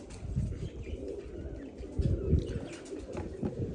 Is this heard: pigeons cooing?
yes